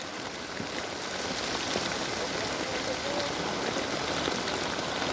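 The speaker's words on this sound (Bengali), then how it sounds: "সব জায়গায় বৃষ্টি হচ্ছে প্রচুর পরিমাণ।" Heavy storm rain pours steadily onto a river, a dense, unbroken hiss and patter of drops striking water that stays loud and even throughout, with no other sound standing out.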